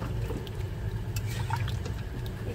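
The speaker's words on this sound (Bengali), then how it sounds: "এখানে দেখো গাটিটা ফুটছে" A pot of taro curry with a little added water simmering on the stove, a low steady bubbling rumble with faint soft pops, close and continuous.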